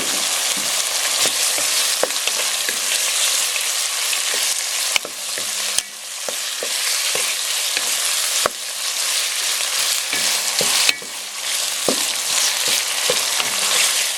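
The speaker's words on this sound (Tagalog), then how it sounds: "hintayin lang natin na medyo ma-fry ng konti itong chicken" Chicken frying in a pan with black pepper and salt for a Japanese-style cream stew, a steady loud sizzle broken by frequent sharp clicks and scrapes of stirring, alone without talk.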